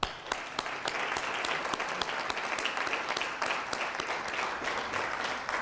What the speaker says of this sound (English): So let's show how much you appreciate what they do for you with a round of applause